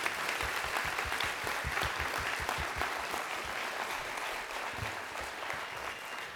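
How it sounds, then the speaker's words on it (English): Sustained applause from a large crowd at a 2019 charter school graduation ceremony, a dense and even roar of clapping with some louder hands punching through near the start. "Let's give yourselves a round of applause for what you've done to accomplish this great feat."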